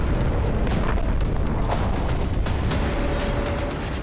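Missile strikes on Gaza, around the Jabalia refugee camp, roar as dense continuous booms and rumbling explosions, loud and sustained with sharp bursts over a constant low din.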